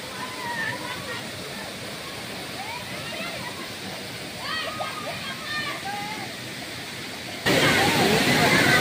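The Palasdari waterfall rushes steadily while children play in the water, their excited voices and shouts rising over the constant roar, which swells louder near the end.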